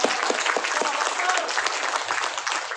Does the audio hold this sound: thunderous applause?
yes